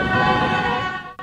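Horns blare continuously from football fans celebrating in a city street in Tan An, Vietnam, a loud, steady tonal wail that drops away briefly at the very end.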